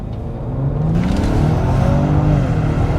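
A 400-horsepower Lincoln Aviator luxury SUV accelerates in Excite mode, its engine note climbing steadily and loud from inside the cabin, building over about three seconds with no talk.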